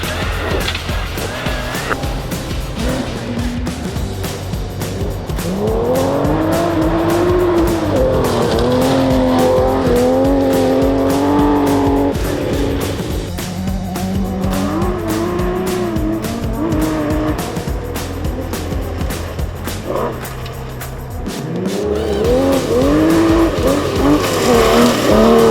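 A Porsche 911 SC rally car races flat out on a stage at Rally North Wales, its engine revving hard through rising and falling gears with tire noise, loud and close throughout, briefly easing off near the end before accelerating again.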